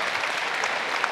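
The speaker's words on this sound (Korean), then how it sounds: "응원의 박수 부탁드리겠습니다." Spectators applaud during a flyweight boxing match between Kim Geon and Ting Kubu, a brief, steady, dense rush of clapping with no pauses.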